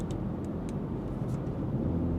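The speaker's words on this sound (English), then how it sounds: "So this is 130 with valves closed." Steady, quiet low engine hum and road rumble from inside a moving BMW X3 30e at 130 with exhaust valves closed, smooth and even throughout with only faint higher hiss.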